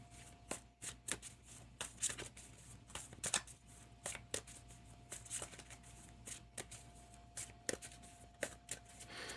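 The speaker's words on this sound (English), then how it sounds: "we might as well shuffle these ones too. The game action cards." Game action cards for a tabletop football game are shuffled by hand in a quiet room, giving repeated soft riffling snaps and taps in an uneven rhythm, close and fairly faint.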